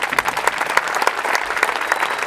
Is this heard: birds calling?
no